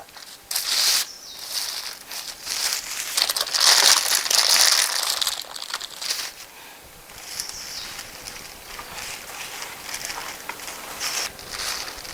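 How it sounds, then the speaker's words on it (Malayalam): Straw pressed down by hand inside a mushroom bed bag, making loud, close crinkling and crunching bursts of plastic and dry straw, busiest early on and easing into softer rustles. "വൈക്കോലാണ് എങ്കിൽ അതൊന്ന് പ്രസ് ചെയ്ത് അമർത്താൻ ഇത്തിരി ബുദ്ധിമുട്ടുണ്ട് ജസ്റ്റ് ഒന്ന് അമർത്തുക"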